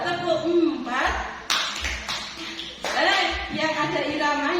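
A few sharp hand claps in a counted rhythm pattern during a teacher coaching session. The claps cut in between stretches of talk and singing-like voices, and each one is brief and crisp.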